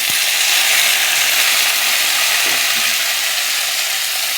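Chopped pointed gourd and potato hit a pan of browned frying onions, producing a loud, dense, continuous sizzle close by that holds evenly for a few seconds without any speech.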